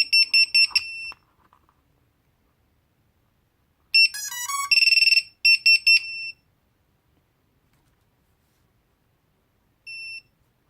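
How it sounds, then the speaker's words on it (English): Loud, piercing electronic beeps from a Vifly Finder lost-drone buzzer sound in short rapid bursts, with a longer warbling stretch in the middle, separated by silence, then one final beep. "that is so much louder than the Hellgate buzzer"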